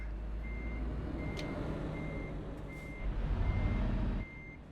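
Steady electronic reversing beeps from a truck backing up in Euro Truck Simulator 2, repeating at an even pace over a continuous low engine rumble that swells slightly near the end.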